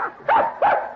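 Newborn puppies, a litter of six in an old radio drama, give two short whimpering yelps in quick succession, close and fairly clear against a quiet background.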